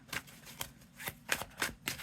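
Tarot cards being shuffled by hand, quiet and close: a series of soft riffling bursts and slaps at an uneven rhythm, about six in two seconds, with no voices.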